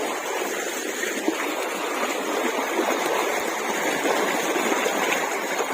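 Deep flood water rushing along a river in heavy rain, a steady broadband roar and gurgle that stays loud and continuous throughout with no voices.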